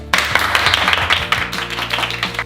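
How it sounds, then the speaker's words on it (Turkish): A small group at home breaks into applause, a dense run of close, loud hand claps lasting a couple of seconds, with little talk over it. "Alkış!"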